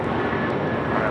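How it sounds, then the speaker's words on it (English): A United Airlines Boeing 757-200 airliner takes off at Los Angeles LAX, its engines giving a loud, steady broadband roar that fills the whole moment without a break. "1783 taking off to Boston on the 757-200"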